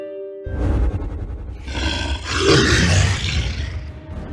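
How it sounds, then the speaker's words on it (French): A creature roars in a dark fantasy scene: a loud, deep, rumbling growl that swells into a long, sustained, rough roar lasting several seconds, heard alone without speech. "la créature qui rugit"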